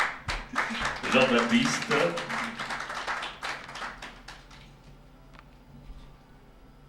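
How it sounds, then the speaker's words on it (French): Scattered applause from a small group at a trainers' graduation ceremony, a few seconds of clapping that thins into sparse isolated claps, with a voice speaking briefly. "Ah, mais d'autres applaudissements, quand même."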